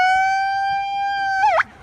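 An emergency vehicle siren sounds outside during an outdoor protest, a loud steady wailing tone that holds, then bends and drops off abruptly near the end.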